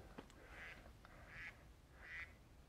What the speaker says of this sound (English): You hear the ducks?